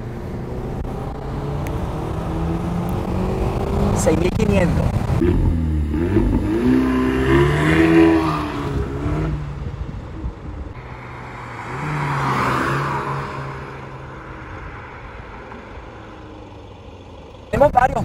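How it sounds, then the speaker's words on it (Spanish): A 2019 Renault Megane R.S. engine rumbles and revs in rising surges under steady talking, the exhaust note swelling twice before settling to an idle. "tú puedes tener este maravilloso sonido del tubo de escape"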